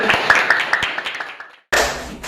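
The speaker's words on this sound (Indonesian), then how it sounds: "Tepuk tangan untuk kelompok yang satu." Students in a mathematics classroom applaud a presenting group, a burst of quick close claps that thins and fades, then a short silence before louder clapping and chatter resume.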